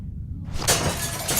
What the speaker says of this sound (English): Use the bat to shatter that window so you can reach in